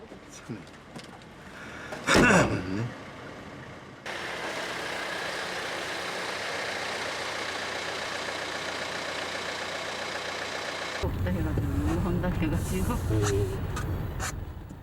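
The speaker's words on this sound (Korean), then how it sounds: "먼 길 떠날 때마다 이용하는 휠체어 전용 탑승 차량." A wheelchair-accessible vehicle's engine hums as a steady mid-level drone for several seconds, framed by louder passages with a voice and other sounds.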